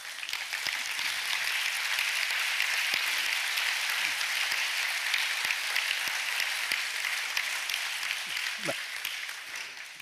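Steady audience applause from a crowd at a literary talk at the Festival della Mente, a dense continuous clatter of many hands sustained throughout, with a brief voice near the start.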